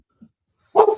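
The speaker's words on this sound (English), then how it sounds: "Dog is barking at something." A dog lets out a single loud, close bark near the end, preceded by a faint short yelp-like sound, with no one talking.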